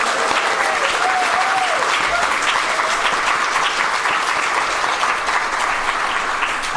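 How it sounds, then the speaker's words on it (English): A live podcast audience breaks into loud, sustained applause, many hands clapping densely and continuously for several seconds with a faint crowd murmur underneath. "Give yourselves a big round of applause."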